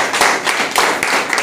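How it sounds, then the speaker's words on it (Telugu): A church congregation claps loudly in praise during a Telugu Christian Sunday service, producing dense, steady applause-like rattling that fills the whole moment with no voices over it. "గట్టిగా చప్పట్లు కొట్టి దేవుని"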